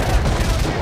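Rapid gunfire from S.T.A.L.K.E.R.: Shadow of Chernobyl, aimed at a barrel, fills a short burst of dense, loud shots with little pause between them.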